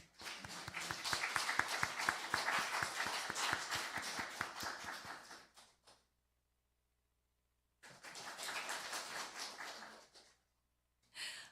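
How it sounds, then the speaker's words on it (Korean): Church congregation at a Korean Sunday worship service claps in welcome for a newly appointed children's ministry evangelist. Distinct rhythmic claps open into a sustained round of applause that cuts off, with a second burst after a silent gap. "환영의 박수"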